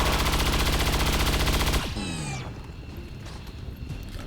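Rapid automatic gunfire from the XCOM 2 video game rattles loudly for nearly two seconds, then cuts to a descending whoosh and quieter rumbling ambience, with no voices.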